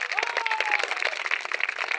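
A crowd at an open-air evangelism crusade in Tabtenga claps and cheers for the Lord, steady dense applause with raised voices and a single sustained shout over it.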